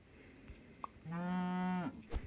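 A cartoonish cow moo sound effect from the video game Super Auto Pets: one drawn-out moo lasting about a second, clear and alone with no talking.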